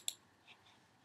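A computer mouse gives a single sharp click, close and quiet, followed by faint soft ticks against near silence.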